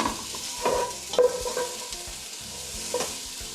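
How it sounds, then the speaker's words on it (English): Onion sautéing in a pot for curried red lentil soup, a soft steady sizzle with a few scraping stirs and light clinks of a utensil against the pot, close and alone without talk. "We're going to continue to saute the onion until it's soft and translucent."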